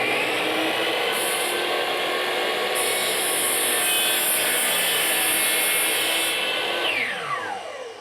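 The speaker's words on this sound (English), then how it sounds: "This is just a carbide woodworking saw, and it will go right through the scale." A carbide-tipped woodworking saw cuts steadily through a metal lathe DRO scale. The result is a loud, continuous grinding rasp with a high whine held close for about seven seconds before it tapers off, and no one talks over it.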